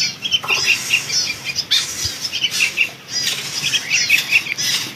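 Burung mayar (a captive bird) beats its wings in repeated bursts of flapping and gives several short, bright chirps and calls, close by, with no talk.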